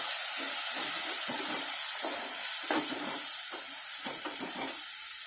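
Tomatoes sauté in hot oil in a pan for a traditional paruppu urundai kulambu, a steady close sizzle and hiss with soft crackles and spatters running continuously.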